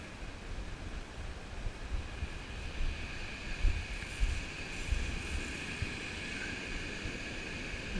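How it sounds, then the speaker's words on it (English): Waves surging and dragging back over the shingle of Chesil Beach in December, a constant rushing wash mixed with wind buffeting the microphone, no talking. "A hell of a backwash."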